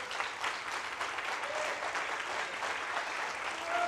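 A church congregation applauds in a steady, dense wash of clapping that continues for several seconds. Scattered voices murmur faintly underneath.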